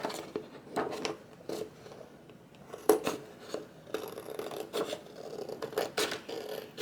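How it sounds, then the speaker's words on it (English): Crisp snipping of scissors trimming excess material from a tote bag, several irregular cuts with light rustling of material in between, close up and moderately quiet. "I'm just grabbing some scissors because I want to cut the excess off."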